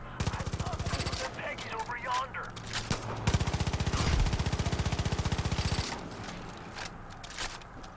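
Bursts of rapid automatic gunfire in the video game Far Cry 5, two long rattling volleys with a pause between, loud in the foreground, with a voice talking over parts.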